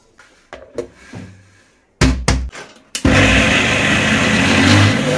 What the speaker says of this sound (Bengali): ডাল আর লঙ্কা দিয়ে একসাথে বেটে নেবো।